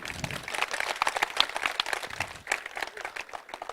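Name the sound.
audience applause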